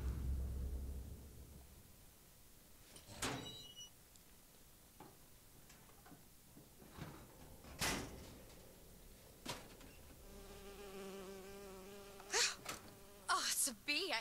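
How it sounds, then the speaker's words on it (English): A bee buzzes in the video game BioShock Infinite, a faint, thin insect drone with brief louder passes near the end amid quiet game ambience. "Oh, it's a bee. I hate these things."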